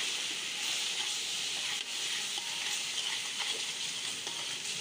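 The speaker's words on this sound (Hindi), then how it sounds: "अच्छी तरह से भूनेंगे इनको।" A continuous, close hiss and sizzle of spices frying in hot oil in a pot for chana pulao, steady throughout with faint crackles.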